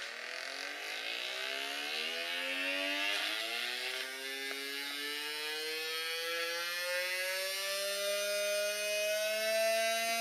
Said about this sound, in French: avec un pont à diode et un condensateur redresseur, on peut même faire tourner un moteur électrique à distance